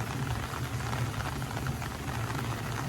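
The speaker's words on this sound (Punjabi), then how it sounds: "ਅਜੇ ਵੀ ਉੱਪਰ ਤੇ ਪੂਰਾ ਮੀਂਹ ਪੈ ਰਿਹਾ" Steady rain pours down over a village during a fair, a dense, even hiss of falling water that runs unbroken and fairly close, with no voices.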